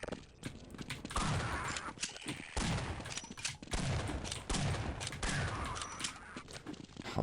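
Repeated shotgun blasts in Half-Life, several loud booming shots spaced irregularly with brief gaps and some footsteps and mechanical clatter between them.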